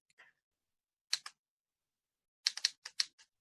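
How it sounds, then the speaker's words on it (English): Computer keyboard typing in a quiet room, two sparse clicks and then a quick burst of several crisp keystrokes, close and clear. "I'm going to type in the word ho."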